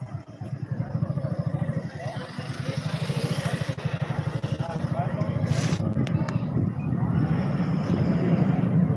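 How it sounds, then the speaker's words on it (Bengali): A motorcycle carrying riders on a long road trip gives a steady, pulsing engine thrum that builds gradually, with wind noise and people talking over it. "প্রথমবার আমরা বেটুকে নিয়ে বাইকে করে যাচ্ছি।"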